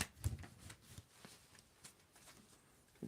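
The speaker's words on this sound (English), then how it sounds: "And I am shuffling," Tarot cards being shuffled by hand during a reading, soft papery riffles and taps arriving in irregular bursts, close and fairly quiet with no talking over them.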